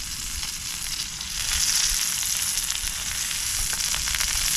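A burger fries in a pan at a wild camp on the beach at Shellness, Sheppey, making a continuous crackling sizzle that swells a little louder after the first second and stays steady, close and alone.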